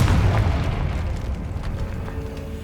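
A Confringo fire spell blasting in Hogwarts Legacy, a deep booming explosion that hits hard at once and rumbles away over a couple of seconds.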